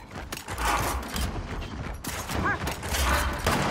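Rapid gunfire bursts in Gears of War 4 ranked Escalation multiplayer, sniper rifle shots mixed with automatic fire, loud and dense throughout with faint game mechanism sounds.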